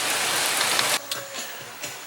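Steady rain from an afternoon thunder shower, a dense hiss for about a second before it drops to a softer patter with scattered drips, close by and with no talking.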